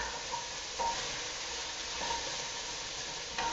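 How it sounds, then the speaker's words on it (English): Ginger and garlic sizzling with onions in a pan, a soft steady frying hiss broken by a few light stirring scrapes, alone and moderately quiet. "now I'm gonna add in the rest of this ginger and garlic"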